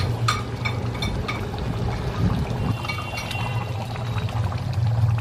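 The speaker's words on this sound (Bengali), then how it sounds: "তেল সহ আমি পেঁয়াজটা এর মধ্যে ঢেলে দেব" Onions with their oil pour into a simmering mutton curry in a pan, a steady loud sizzle with small clinks near the start and no voices.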